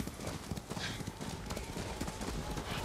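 A white horse's hooves clip-clop at a steady walking rhythm across snow in the samurai game Ghost of Tsushima, close and clear over a constant background bed, with a voice murmuring faintly at times.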